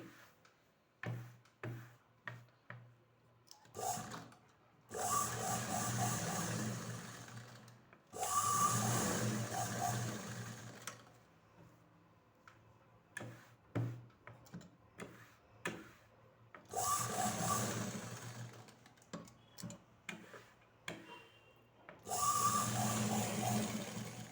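A sewing machine stitching fabric to attach a sleeve, running in several loud whirring bursts of a few seconds each, separated by rapid ticking clicks and short pauses.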